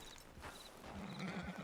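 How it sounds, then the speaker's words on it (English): A horse in the Red Dead Redemption 2 video game whinnies while its hooves clip-clop at a walking pace, close and moderately loud, with no talking. "Get on the horse there."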